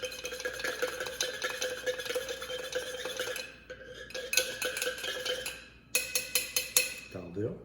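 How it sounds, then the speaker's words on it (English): Mixing spoon stirring a Victorian eggnog mixture in a bowl, a busy scraping and clinking run of strokes that briefly pauses, then resumes in short bursts, close and fairly faint. "you want to stir that in with a mixing spoon until they've roughly combined"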